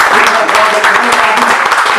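Audience applause at a Delhi Police event, steady dense clapping from a crowd that sounds close and fairly loud throughout the short stretch.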